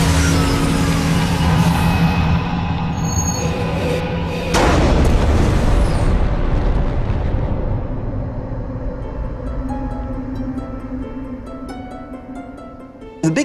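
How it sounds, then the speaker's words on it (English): A Big Bang explosion sound effect, a deep, loud rumbling roar with a heavy booming hit partway through, then a long rolling low rumble that slowly fades. "nothing is more powerful than the colossal explosion that created it all"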